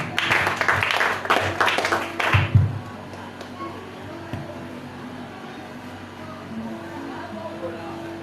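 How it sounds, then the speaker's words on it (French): A church congregation claps and cheers in a dense, lively burst that lasts a couple of seconds and then stops abruptly, leaving quiet room ambience with faint murmurs and a few scattered sounds afterward. "Acclamons très fort le roi du roi."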